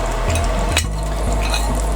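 Cumin seeds sizzle loudly in hot mustard oil for a potato and dill dish, a dense, close, constant crackle with a few clinks and stirs over a low steady hum, with no voices.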